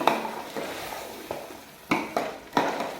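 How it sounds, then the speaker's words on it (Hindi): Chicken karahi masala being stirred in a pan, with scattered scraping and clinking hits of a utensil against the metal, several sharper knocks near the end over a low background hiss. "इसे अच्छी तरह मिक्स कर लें।"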